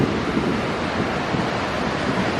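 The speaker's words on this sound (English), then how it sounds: "And there's the sea" Sea surges against the lava-rock pools at La Caleta, Tenerife, a dense continuous wash of surf mixed with buffeting wind on the microphone, loud and close with no voices.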